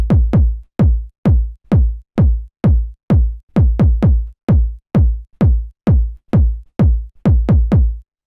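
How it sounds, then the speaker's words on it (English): Punchy 909-style kick drum for a funky minimal house track, tuned to A, repeating as loud, deep thuds with short decays in a steady pattern and occasional quick doubled hits, alone. "The next sound that we have here is the kick,"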